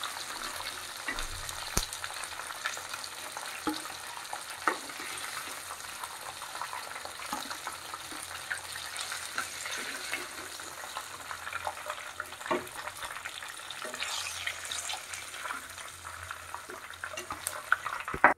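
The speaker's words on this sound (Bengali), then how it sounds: "বাকিগুলো ভেজে নেই" Korean sweet and spicy fried chicken pieces frying in hot oil, a steady dense sizzle and crackle running throughout with occasional faint stirring clinks, no talking.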